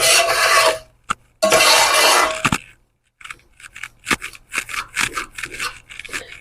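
A ladle stirs chickpea flour roasting in a pan, making dry scraping and rubbing strokes. Longer sweeps come first, then a short pause, then quicker, choppier scrapes, all close and alone.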